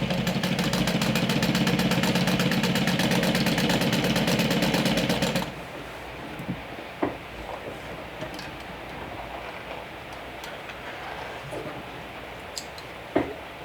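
A sewing machine top stitches the fabric of a makeup bag, running in a steady, loud, dense whir for about five seconds and then stopping abruptly, followed by quieter handling noises and a few faint clicks.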